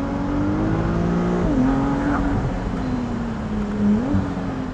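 A Ferrari 296 GTS with the roof down accelerates hard on a mountain road in the Himalayan foothills, its engine droning loudly and rising in pitch through a couple of gear changes, close and continuous.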